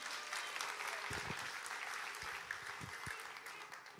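Audience applause at a church sermon gathering fills the whole span: steady, dense clapping from a large room, with a few voices mixed in underneath.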